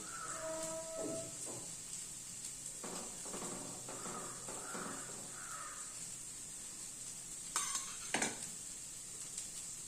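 Steady sizzling hiss of beaten egg poured into a hot pan fills the clip, with a few soft clinks and scraping sounds of utensils in the middle and near the end.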